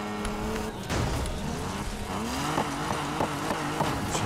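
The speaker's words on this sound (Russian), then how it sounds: "Едет тачечка моя." A tuned classic car driven in NFS Heat growls with a steady, loud engine drone, its pitch shifting as it revs, with a few sharp knocks and bumps as it rolls over rough ground.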